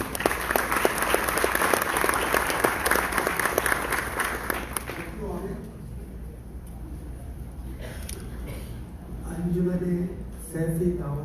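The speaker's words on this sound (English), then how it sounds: "Let's give him a round of applause." Sustained applause from a Bohra community audience at an Eid ul Fitr and July 4th celebration in Chicago for Pakistan's Consul General, dense for about five seconds before fading, followed by voices speaking over the room.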